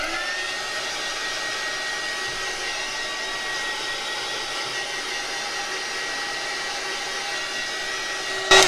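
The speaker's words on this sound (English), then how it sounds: "So you can just use your heat tools to take care of that." Heat gun blowing hot air across a freshly poured red and white resin coaster, a steady, close, unbroken airy roar with a faint whine that holds level throughout and ends with a small knock.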